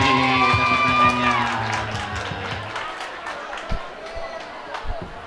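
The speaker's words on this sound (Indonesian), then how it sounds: "Mari semua tepuk tangan." A school expo crowd cheers and whoops with scattered clapping, loud at first then fading into a murmur with a few sharp claps, voices shouting over it.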